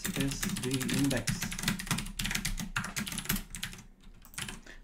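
Rapid typing on a computer keyboard, dense clicking keystrokes in quick bursts for several seconds, close and loud, with a brief lull near the end.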